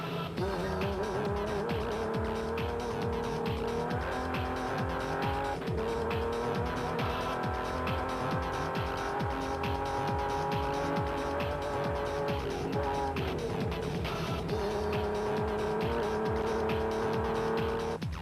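Rally cars racing in the Amathole 500 off-road event roar past continuously at speed, loud and close, engines revving and tyres squealing throughout with no talk.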